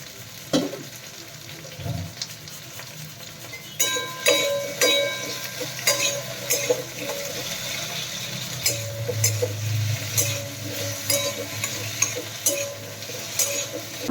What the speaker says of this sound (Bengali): তো আলুটা ফ্রাই করে নিই